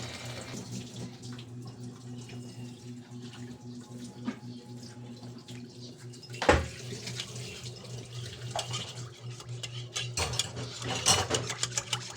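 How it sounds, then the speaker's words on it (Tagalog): Mineral water poured into a pot while food is cooked for an outing, a steady watery splash running through the clip over a low background hum, with a louder clatter partway through. "Lagyan mo ng tubig, HB"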